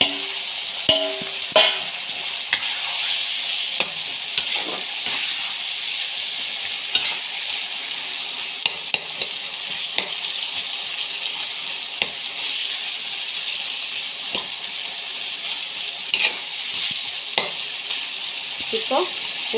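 Finely chopped tomatoes frying in hot oil for tomato rice, a steady close sizzle with occasional sharp clicks and scrapes as the spoon stirs the pan.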